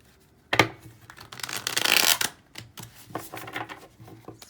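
A deck of cards is shuffled close up in a couple of quick riffling bursts, with a sharp snap at the start and softer flicks afterwards, in a quiet room.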